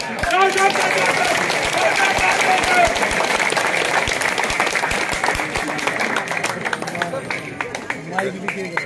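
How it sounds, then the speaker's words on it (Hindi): A large crowd at a ceremony honouring a gold medal winner breaks into loud applause, with voices and crowd babble mixed in. The clapping is thick at first, then thins into more distinct individual claps toward the end. "एक बार पुनः जोरदार तालियों से"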